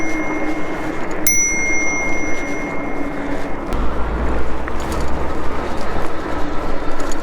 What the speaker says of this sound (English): It's got like kind of this trumpet kind of thing that's going to project that sound in front of you